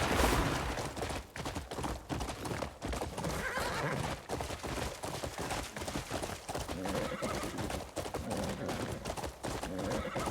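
A horse in a video game neighs and whinnies over a quick, continuous clatter of hoofbeats as it gallops, fairly close and steady throughout, with sharp percussive bursts mixed in.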